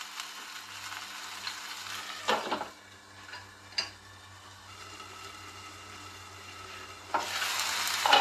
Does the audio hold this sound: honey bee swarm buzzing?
no